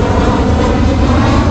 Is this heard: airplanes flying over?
yes